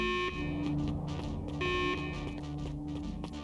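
Electronic alarm tones in the video game Beacon Pines sound in short repeated pulsing bursts, layered over steady game music.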